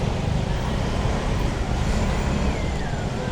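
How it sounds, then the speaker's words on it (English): Steady, loud road traffic with cars and heavier vehicles rolling past close by, forming a continuous dense rumble and hiss that never lets up. "It's this traffic, it slows things down."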